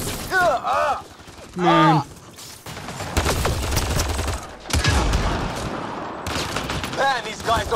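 Rapid gunfire in the sci-fi shooter Mass Effect Andromeda, bursts of automatic shots crackling through a firefight, with a person briefly speaking and chatter early on before the shooting dominates.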